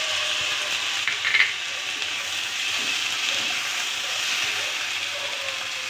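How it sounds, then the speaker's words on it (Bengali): Potatoes tossed into a pan where onions have fried red-brown give a steady soft sizzle throughout, with a brief scrape of stirring near the start. "এবার আলুটা দিয়ে দেব। একটু নাড়াচাড়া করে মিশিয়ে নেব।"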